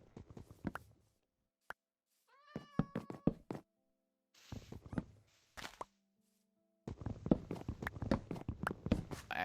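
A cat meows in the Minecraft video game, a few short rising in-game mews set among knocks, footstep-like thuds and other game sounds, clear and separate with quiet gaps and no talking.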